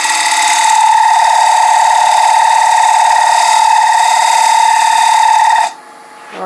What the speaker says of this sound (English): use our parting tool to turn that recess